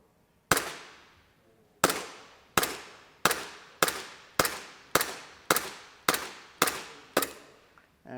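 A WE Tech Glock gel blaster fires in semi-auto: ten sharp, snappy shots, the first alone, then nine in a fairly steady rhythm, each a loud close crack with a short decaying tail.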